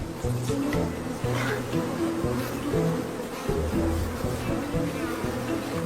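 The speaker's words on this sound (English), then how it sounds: "A swarm of angry bees isn't the best lullaby for a tired wild dog." A dense, continuous buzzing of many angry bees swarming close by in Africa, loud and agitated, with low droning tones rising and falling throughout.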